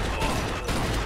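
Rapid gunfire in a video game, Mafia II, a dense burst of closely spaced shots that fills the whole moment, loud and close.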